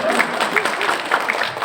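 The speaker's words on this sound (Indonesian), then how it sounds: "tepuk tangan untuk ibu-ibu dong" Applause from an audience of mothers at a family-advice talk, a dense wash of hand claps carrying on steadily with some crowd murmur and voices mixed in.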